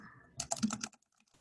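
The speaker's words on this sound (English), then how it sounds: "Oh, goodness, I can type, really." A brief, quiet burst of rapid keystrokes on a computer keyboard, typed while entering data into an Excel spreadsheet, followed by silence.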